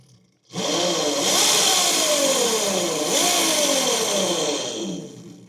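An Eride Pro electric motorbike, freshly repaired, has its motor switched on: a loud, close whine starts abruptly, rises and falls in pitch for about five seconds, then cuts off.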